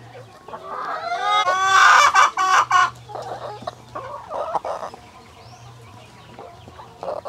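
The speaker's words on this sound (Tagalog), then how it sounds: "Tanawa sa gikaon na ng mga manok na to" Chickens cluck and squawk nearby in busy, overlapping calls while eating in a backyard farm, loudest early on, then settling into softer scattered clucks with light background noise.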